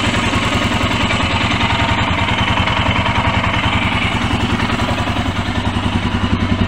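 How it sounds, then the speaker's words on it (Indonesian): A Royal Enfield motorcycle engine idles steadily and loudly up close with an even, rapid thumping clatter, before its oil change and booster setting, on a bike that has trouble starting. "Ini ya suara mesinnya ya"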